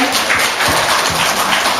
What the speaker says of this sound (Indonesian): boleh tepuk tangan untuk Ustazah